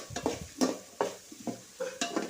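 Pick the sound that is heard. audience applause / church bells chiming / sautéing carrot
sautéing carrot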